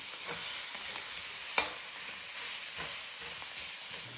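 Kofta mixture being stirred in an aluminum pan, a steady soft scraping and sizzling hiss throughout, with a sharper clink of the utensil against the pan near the middle and another fainter one later.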